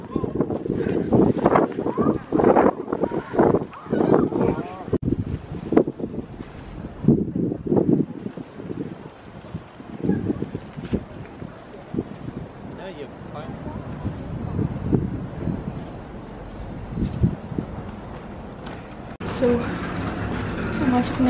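Gusty wind buffets the microphone outdoors at Dongdaemun Design Plaza in Seoul, with continuous low rumbling bursts. Voices talk intermittently through the wind.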